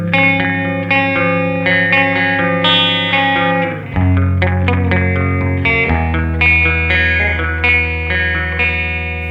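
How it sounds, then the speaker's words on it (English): Distorted electric guitar notes and chords played through a Red Witch Titan analog delay pedal set to its shortest delay time, with tight, close repeats that smear into a reverb-like wash. "we get the shortest delay time, which is this."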